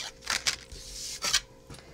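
Scissors snip through a piece of blue card in a few quick, close cuts, with short bright crunches separated by brief pauses.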